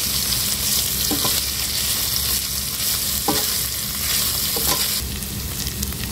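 Capsicum stir-frying in a pan with fried onion and cashews, a loud, continuous sizzle with several sharp scraping stirs throughout and no talking.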